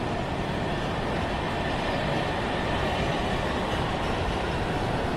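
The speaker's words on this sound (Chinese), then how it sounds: "地铁来了。" A subway train pulls into a station with a continuous, loud, dense rumble of wheels and rails filling the whole stretch, with no voices.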